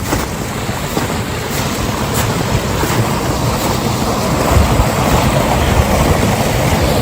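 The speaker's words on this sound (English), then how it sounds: "You can see the water's gushing pretty good through there." Stream water gushes steadily over a small waterfall in a winter forest, a loud, continuous broadband rush with no speech over it.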